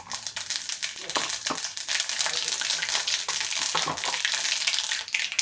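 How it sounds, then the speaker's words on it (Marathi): Mustard seeds in hot oil, a dense, close crackling and spitting sizzle that holds loud and steady throughout without talk. "तेल गरम झाले. आता आपण घालूया मोहरी."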